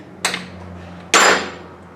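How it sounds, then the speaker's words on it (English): Two sharp metallic hammer strikes on a motorcycle fork about a second apart, the second louder with a ringing tail, against a low steady hum. "Now we get to bang on things with hammers"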